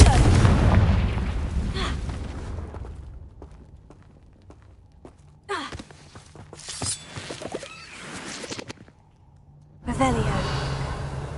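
Bombarda explosion spell in Hogwarts Legacy, a deep boom at the start that rumbles and decays, followed by scattered impacts, debris and footsteps, with a second burst near the end.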